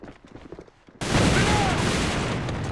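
Dense, sustained gunfire from the video game Alliance of Valiant Arms during a competitive esports match, bursting in loud and continuous after a second of quieter shots and commentary-like murmur.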